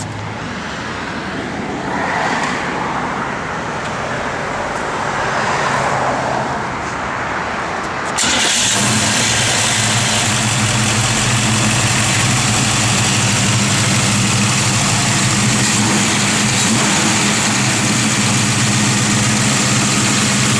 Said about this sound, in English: Straight engines are nice. You got good low end torque.